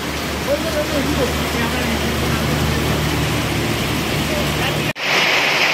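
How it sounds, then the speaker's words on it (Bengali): Rain pours down outside a roadside tea stall, a dense, loud, constant hiss that carries through most of the clip before a brief break and a sudden louder burst. "এই এখন বৃষ্টির মধ্যে"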